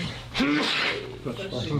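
A single sharp sneeze bursts out at a board of education meeting, close and abrupt, followed by a brief sniff amid quiet room noise.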